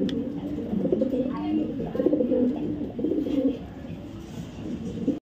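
Racing pigeons at a loft giving soft, steady throaty coos near at hand, continuing underneath someone talking throughout.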